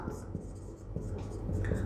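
A pen scratches steadily across paper as a math answer is written out by hand at close range, with someone talking over the writing.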